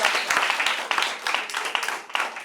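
A round of applause from the audience at a school debate in Lagos, a steady wash of many hands clapping at moderate loudness, with no voices over it.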